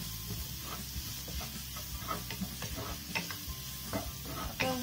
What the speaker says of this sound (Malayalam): ഒന്ന് ഫ്രൈ ചെയ്ത് കൊടുക്കാം